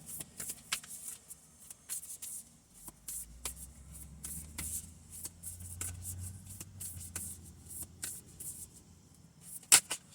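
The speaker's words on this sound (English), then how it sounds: "The bigger ones are a little harder to shuffle because I have to really stretch my hand" Quiet riffle and slap of a large deck of oracle cards being shuffled by hand, a series of soft papery snaps and brushing sounds with a louder snap near the end.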